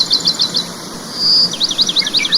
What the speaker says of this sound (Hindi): जहां हर सुबह सूरज की पहली किरणों के साथ पक्षियों की चहचहाहट